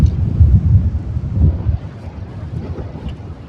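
Strong cold wind buffets the microphone in gusty low roaring bursts, loudest early on and then easing to a steadier rumble, with no voice over it.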